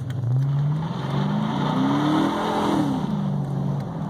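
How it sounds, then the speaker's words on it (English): A car engine rises and holds in a steady hum as the vehicle is put in drive and pulls away on a gravity hill road, fairly close with no talk. "you put it in drive, it'll pull right on out of here"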